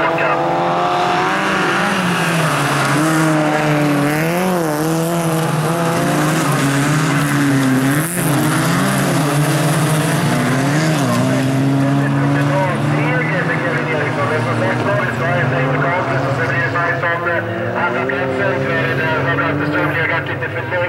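Rallycross cars at a bilcross race in Eskilstuna roar past continuously as engines rise and fall through gear changes. Excited commentary runs over the racing throughout.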